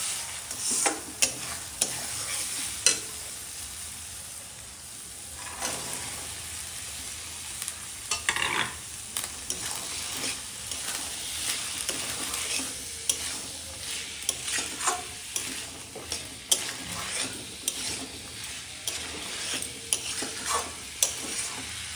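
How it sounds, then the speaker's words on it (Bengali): Boiled chickpeas and potatoes fry with ground spices, including red chili powder, in a pan, giving a close, steady sizzle broken by repeated spatula scrapes and clacks as the mixture is stirred. "সবগুলো মশলা দেওয়ার পর হালকা কষে নিব।"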